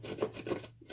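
A rasp files a wooden knife handle on a budget Texas Bowie, giving three quick scraping strokes, close and dry, with no talk.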